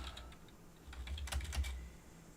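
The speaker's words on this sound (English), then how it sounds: "What do we have to type in here?" Rapid typing on a computer keyboard at a desk during a live financial advice show, a quick run of light clicking keystrokes, close and clear with a brief denser burst in the middle.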